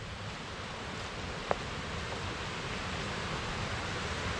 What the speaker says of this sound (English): Love the sound of that water.